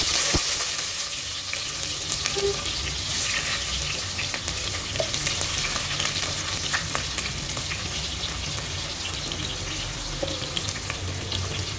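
Sliced onions fry and browning in a pan for chicken curry, a steady close sizzle with occasional stirring scrapes throughout, no talking.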